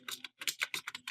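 Rapid typing on a computer keyboard while entering text into an MS Excel spreadsheet: close, crisp key clicks in several quick bursts separated by short pauses, with no voice.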